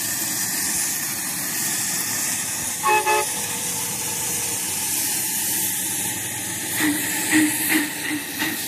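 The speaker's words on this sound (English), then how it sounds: "Got a train behind you." A steam train passes nearby, its whistle giving a short toot followed later by a few more tooting blasts over a steady background hiss and rumble, with no talking.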